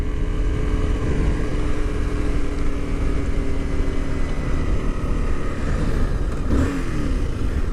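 Motorcycle leaning low through a favorite turn at about 40 mph, a loud steady engine drone mixed with heavy wind rumble, with a brief shift in pitch near the end.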